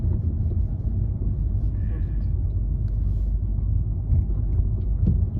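A DS DS4 1.6 Blue HDi hatchback with automatic gearbox rolling over manhole covers, heard from inside the cabin as a steady low road rumble with a couple of soft thumps from the plates.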